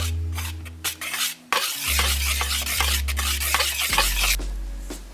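A whisk or spoon scrapes and rubs through a bowl of dry flour, baking powder, cornstarch, salt and ground cinnamon in steady close-up strokes, backed by a low constant hum.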